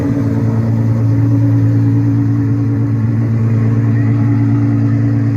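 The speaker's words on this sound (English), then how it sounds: "And there it goes, rolling off the flatbed" A hypercar rolling off a flatbed at a Ferrari concours event, giving a steady, loud, low engine drone with an even idle rumble throughout.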